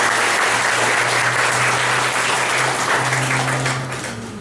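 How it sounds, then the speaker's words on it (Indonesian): A seminar audience applauds the speaker, with dense and steady clapping that stays loud and close, then slowly fades near the end. "Kita aplaus untuk beliau."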